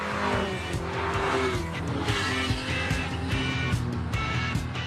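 A Lancia Fulvia HF 1600 driven on winding Pyrenees rally roads, its engine revving and droning loudly and continuously up close, with tires squealing through bends.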